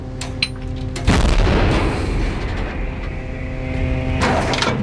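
A Bohdana self-propelled howitzer fires with a deep booming blast, followed by a long rumbling roar and echo; engine hum runs underneath.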